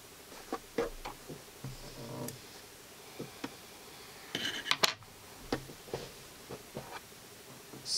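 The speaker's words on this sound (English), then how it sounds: "Needle up, and we cut the threads." Scissors snipping sewing threads on a small Barbie holiday outfit, a scattered series of short, crisp clicks and snips close by, with quiet pauses between them.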